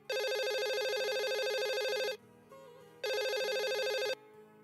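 A telephone rings in two long bursts of an electronic ringtone, loud and close, separated by a short pause, with no talking.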